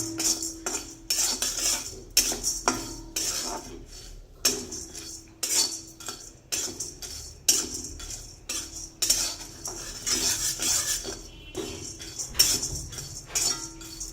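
Lentils and rice dry-roast in a pan, scraped and stirred with a metal spoon in steady, repeated scrapes and clinks against the pan, close and fairly clear.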